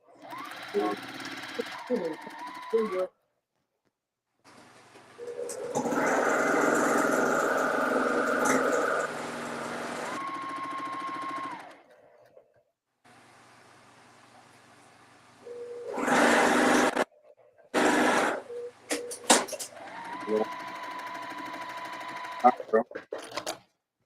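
A sewing machine stitches row seams on a patriotic Churn Dash quilt in several bursts of steady whirring, separated by pauses and handling sounds.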